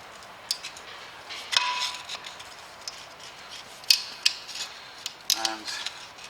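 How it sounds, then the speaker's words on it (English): A screwdriver prying around the brake disc dust cover of a 2011 Ford Mondeo Mk4 in a garage, producing a scatter of small metallic clicks, scrapes and ticks over a quiet background. "Just work the screwdriver all the way around so you get a lip."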